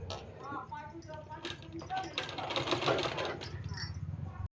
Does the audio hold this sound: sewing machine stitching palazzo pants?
yes